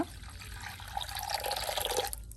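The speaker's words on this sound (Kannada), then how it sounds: "ಇದಕ್ಕೆ 1 ಗ್ಲಾಸ್ ನೀರು ಹಾಕುವ" Water pours steadily into a glass, a close, gentle splashing trickle that rises slightly before stopping.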